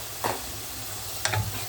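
Dried puti fish are dropped into spice paste frying in oil. Two brief clattering plops stand out over a steady, soft sizzle.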